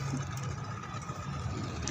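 Idling exhaust of a boat engine, a steady low rumbling drone with a faint rhythmic throb, close and constant for the whole stretch.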